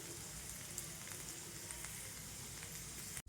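Onions frying in oil with asafoetida for onion chutney, a dense, steady close sizzle that runs unbroken before cutting off abruptly at the end.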